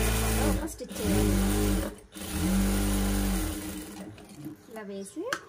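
Sewing machine stitching a blouse, running in several bursts of steady close whirring with brief pauses between, while a person talks over and between the runs.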